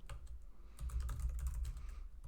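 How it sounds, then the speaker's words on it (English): Steady, rapid keystrokes clatter on a computer keyboard as code is typed out, close and fairly quiet, with no voice present. "as I'm sort of typing this out"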